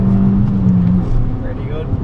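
A Fiat Abarth 500 on a race track accelerates at full power in a strong, continuous engine drone heard from inside the car, with someone talking over it.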